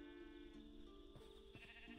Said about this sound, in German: Okay, aber hier sind Schafe.